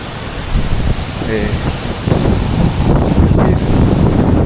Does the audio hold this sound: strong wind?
yes